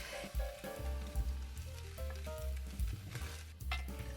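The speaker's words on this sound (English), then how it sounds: "I added in a bit more oil and I scrambled 3 eggs." Three eggs being scrambled in oil in a frying pan, with a steady loud sizzle and repeated scraping stirs of the utensil against the pan.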